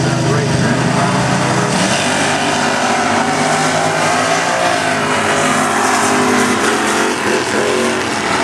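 Chevrolet Camaro drag car at a drag strip in the left lane, accelerating hard with a loud, sustained engine roar under an announcer's voice over a PA.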